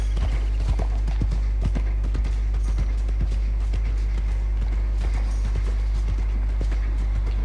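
Rhythmic clip-clop of horse hooves at a steady trot in the video game Red Dead Redemption 2, fairly close and continuous over a low game-ambience hum, with no talk.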